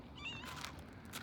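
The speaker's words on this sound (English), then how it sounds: "Can't feed all these cats." A cat meows faintly in the background, with a short wavering cry and then a softer one, over a steady low hum.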